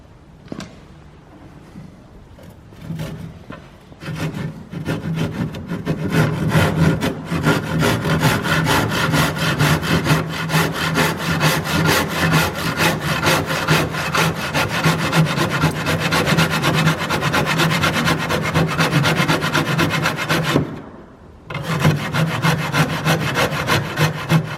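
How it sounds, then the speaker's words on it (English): A hand saw cuts through a wooden door frame bottom plate, sawing up against a stud above finished flooring; brief short strokes open, then a long, steady, loud run of rhythmic rasping strokes, a short pause near the end, and sawing resumes. "Just always make sure you're hard up against that stud when you saw."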